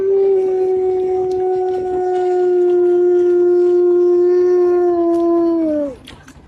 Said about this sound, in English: Now I know that was a dog, but that was a sound signal.